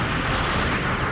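A dense, continuous blast of gunfire from an anti-tank rifle in the Mobile Suit Gundam: Zeonic Front video game fills the whole moment, loud and close with no pauses.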